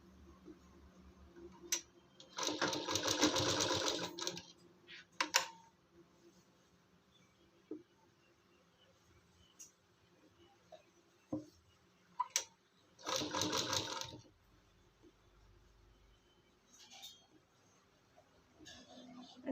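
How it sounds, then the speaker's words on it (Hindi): An electric sewing machine stitches a young girl's kurti in two short whirring bursts, separated by quiet stretches of small clicks and handling sounds. "फिर इधर सिलाई लगाएंगे"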